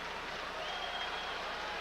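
A Seattle football stadium crowd roars in a steady, distant wash of cheering and applause throughout the 1989 Raiders at Seattle game.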